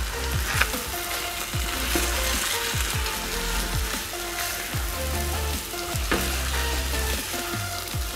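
Chilies and cherry tomatoes fry in a pan over low to medium flame, giving a steady, dense sizzle with repeated low scraping knocks from stirring throughout.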